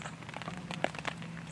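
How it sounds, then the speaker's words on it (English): Rain falls at a campsite, a faint, steady patter with scattered drops tapping close by on a surface, and no talk. "It's still raining, like, right now."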